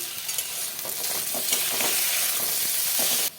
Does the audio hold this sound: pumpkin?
yes